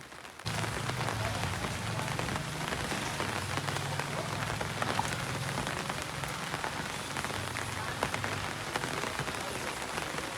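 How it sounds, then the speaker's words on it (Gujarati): Rain falls steadily on surfaces nearby, a continuous close patter of drops that starts abruptly and holds at an even level. "વરસાદ આવી ગયો ને કામ થઈ ગયું"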